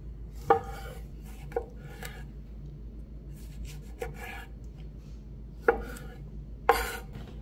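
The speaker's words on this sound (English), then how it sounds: "And the tomato, I cut the same thing, 4 pieces." A kitchen knife slices tomatoes into quarters on a cutting board, giving a few sharp, separate knocks against the board, close and isolated, with quiet pauses between cuts.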